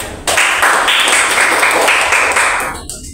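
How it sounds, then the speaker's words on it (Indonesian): A small classroom group claps for a student during a microteaching session, a short, loud burst of close clapping that fades out after about three seconds. "Tepuk tangan untuk saudara."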